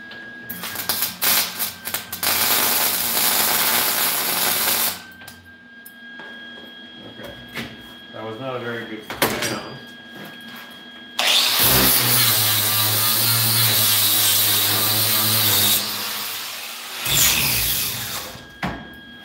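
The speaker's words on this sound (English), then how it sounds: "We're going to weld this to the bench." Gas-shielded welding of a part onto a workbench during a Bonzai build: two long bursts of loud, harsh crackling and buzzing, separated by a quieter stretch of clatter, with no talking.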